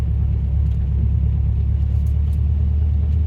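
A 1979 Subaru without power steering pulls away in first gear, a loud, steady low engine rumble heard from inside the car, constant with no revving peaks or talking.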